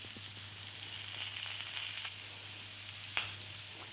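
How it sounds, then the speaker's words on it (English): Steak searing in a hot pan gives a steady, close sizzle with a brief louder crackle near the end, alone with no voices. "Now it's important when you're cooking the steak that you don't be tempted to turn the steak too much."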